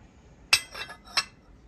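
Porcelain bread plate, saucer and cup set down on a table one after another, making three crisp, close clinks: a sharp first tap, a softer second and a bright final one, with no voices.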